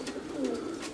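A Madrasi pigeon gives one short, soft, low coo, close by and on its own, lasting under a second.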